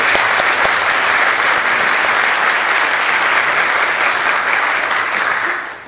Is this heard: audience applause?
yes